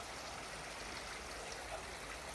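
A river runs below an outdoor hot spring bath in Tanigawa, Gunma, heard as a steady, faint rushing wash of water from a distance, with no other sounds.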